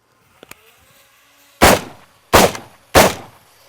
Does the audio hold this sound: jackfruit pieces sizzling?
no